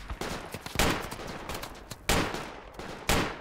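Gunfire in the tactical shooter game Project Reality, with several sharp broadband shots and bursts cracking out irregularly across the clip, some loud and close, others fainter and more distant, no talk over them.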